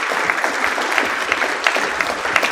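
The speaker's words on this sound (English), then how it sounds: "Please give them a round of applause." A roomful of students at a student government general session clapping for newly introduced student senators, with dense, steady applause at close range throughout and a faint murmur of voices beneath.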